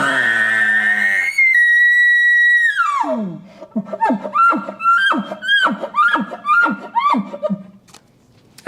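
A bull elk bugle voiced through a calling tube at a calling seminar, imitating a big herd bull. A loud, high, sustained whistle slides down and gives way to a rapid series of grunting, chuckling chirps, heard alone without talk.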